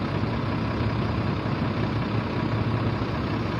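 A Komatsu HD 785 dump truck's heavy diesel engine holds a steady, loud, low rumble with the parking brake applied and the accelerator pressed, an even drone with no talk over it.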